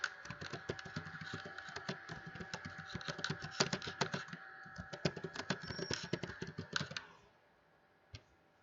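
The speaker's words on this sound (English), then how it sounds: "I want to type immediately something." Rapid, irregular keystrokes from a computer keyboard clatter close and steady for about seven seconds, then stop, with one last isolated tap after a short pause.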